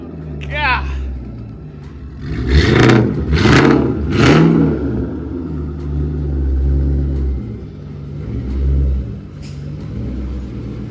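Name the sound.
Ford Mustang GT engine revving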